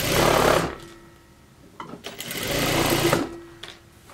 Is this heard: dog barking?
no